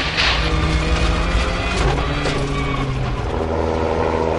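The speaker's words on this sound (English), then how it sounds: "you get on the power, and you have a nice slide all the way through the corner" A rally car, driven by Colin McRae, roars hard through a corner, engine screaming under power while tires scrub and slide on loose ground, loud and close throughout.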